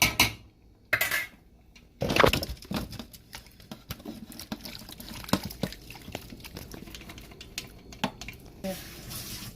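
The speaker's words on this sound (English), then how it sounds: "I'm going to pour this out because it's ready." Cooked peppered kpomo (cow skin) slides and spatters out of a pot with metallic clanks and scrapes of utensils, wet dripping and pattering sounds close by.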